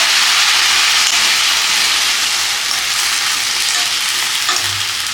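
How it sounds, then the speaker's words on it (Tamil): White chickpeas sauté in a hot pan, giving a loud, continuous sizzle and hiss with light stirring scrapes throughout, close and steady. "இப்போ இதெல்லாம் ஒரு வதக்கிட்டு சுண்டலும் போட்டுக்கலாங்க"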